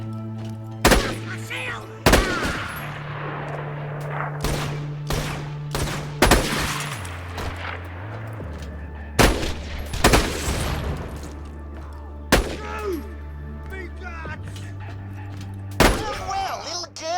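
Repeated game gunfire from Borderlands: The Pre-Sequel, sharp loud bursts and single shots scattered across the clip over a steady musical drone, with brief shouted voices between the shots.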